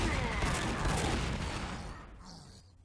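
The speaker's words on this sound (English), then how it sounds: "And I think I'm gonna shoot you." Gunfire in the strategy video game Warhammer 40,000: Sanctus Reach erupts as a loud, rumbling fusillade of shots that tails off into a fading boom, with a brief high whine near the end.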